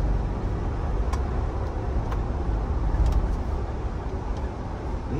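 A Mahindra Thar driven fast on a long drive gives a steady low rumble of engine and road noise from inside the cabin, with faint ticks scattered through it and no talking.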